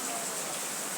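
Rain pours down in the evening, a continuous broadband hiss that stays even and fairly close, with no voices.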